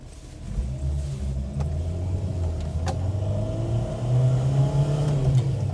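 A Renault 4 GTL engine revs while the car drives along, a steady low in-cabin drone rising in pitch as it pulls through the gears, with faint clicks and no talk.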